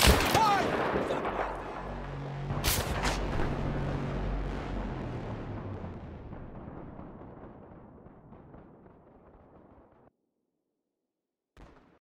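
A rocket launcher fires in Battlefield 3: a loud blast and long rumbling roar fade slowly over about ten seconds, followed by a brief faint thump near the end.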